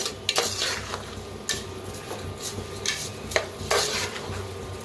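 Rice and salt roast in oil in a pan for masala rice while a spoon stirs and scrapes against the metal, with repeated sharp scrapes over a soft continuous sizzle.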